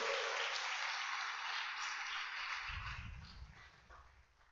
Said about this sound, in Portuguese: Quem crê nisso aí, dá um aplauso bem forte ao Senhor.